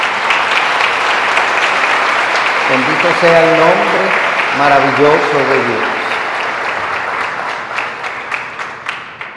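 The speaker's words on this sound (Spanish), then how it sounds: "yo pido un aplauso de gratitud." A charismatic Catholic congregation claps in gratitude for a renewal. The applause is loud and sustained, and someone speaks over it midway before the clapping thins into scattered individual claps at the end.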